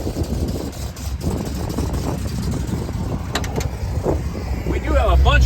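A 1966 Mercury Comet Cyclone GT with MSD fuel injection and ignition runs and drives, a steady low engine rumble throughout, louder toward the end, with someone talking over it.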